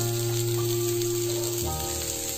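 Green chillies and curry leaves frying in hot oil for semiya upma: a loud, continuous close-up sizzle with a faint low hum underneath and no voices.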